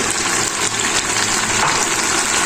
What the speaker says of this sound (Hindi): इसमें डाल देंगे बिल्कुल थोड़ा सा पानी।